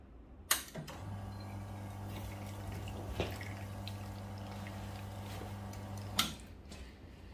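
A Nook Mini Duo Boiler espresso machine runs a water flush: a click starts a steady low pump hum with faint trickling water for about five seconds, ending with another sharp click.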